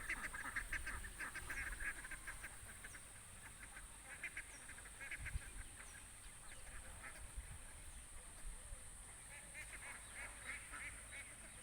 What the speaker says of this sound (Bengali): দেখেছো কত হাঁসের পাল?